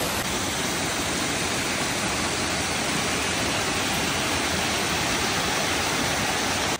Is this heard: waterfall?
yes